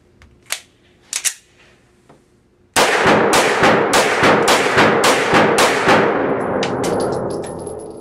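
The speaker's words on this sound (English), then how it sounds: "every pistol has to be test fired at Beretta to make sure that it's fully functional" Beretta PX4 Storm semi-automatic pistol test fired in a rapid string of about ten sharp, loud shots with a ringing tail, preceded by a few faint clicks and handling noises.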